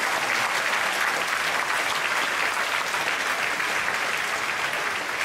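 A church congregation at a Friday all-night worship service gives a continuous round of applause, a full, even wash of clapping heard from within the room, with no voices over it.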